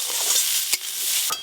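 Ingredients for a Bengali egg curry and yam dishes being stirred in a hot pan, a steady dense sizzle of frying with a couple of sharper scraping strokes of the spoon, close and continuous.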